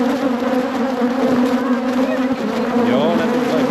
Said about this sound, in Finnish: Tämä on sellainen niinku, vois sanoa, että semmonen aika vihainen mehiläispesä.